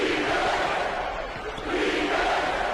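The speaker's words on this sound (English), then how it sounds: "the crowd is getting loud. The crowd is getting out of their seats" A basketball arena crowd roars loudly and continuously during a game, a dense wall of cheering that swells slightly toward the end.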